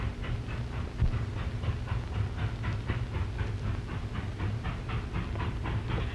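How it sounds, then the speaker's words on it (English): A passenger train rolls steadily along the tracks with a rhythmic clickety-clack over a deep continuous rumble, fairly close and constant throughout. "they'll run into the passenger train"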